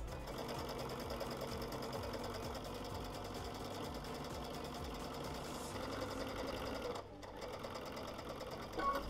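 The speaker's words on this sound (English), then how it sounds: "now I'm just going to thread up with my pretty thread and quilt the straight" A sewing machine hums and rattles steadily while quilting straight lines, its fast even stitching continuous and close with only a short dip near the end.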